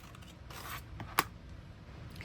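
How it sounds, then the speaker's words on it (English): Quiet snips and rustling of scissors cutting through paper, with one crisp sharp cut standing out, close and soft. "I'm going to go ahead and just cut this out with my scissors"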